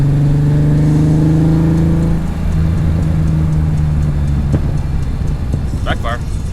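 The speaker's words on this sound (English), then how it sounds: "Backfire." Engine of a 2023 bagged BMW E30 running on its original motor, with a loud steady idle and rev that drops at about two seconds, then a sharp crack midway and a quick cluster of pops near the end.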